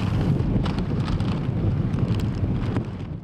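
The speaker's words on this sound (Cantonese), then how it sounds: "天光之後，杏花村嘅風勢仍然大，湧浪拍岸" Strong typhoon wind roars across the shoreline at Hang Fa Chuen, loud and continuous, with buffeting gusts on the microphone and surging waves crashing against the shore beneath it, and no voices.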